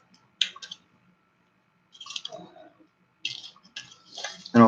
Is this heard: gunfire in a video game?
no